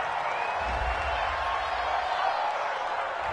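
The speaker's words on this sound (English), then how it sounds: "This home crowd, they're happy with that call." A stadium crowd in a football video game roars in a sustained, even wash of cheering after a penalty call, with faint commentary voices underneath.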